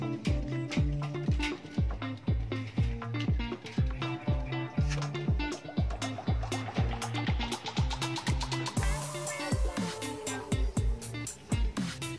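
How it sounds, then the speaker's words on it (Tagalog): Two pigeons fighting inside a loft, heard as a rapid, regular run of sharp bird calls and scuffling pulses that continues throughout, close and fairly quiet. "Nag-aaway na yung dalawang kalapati."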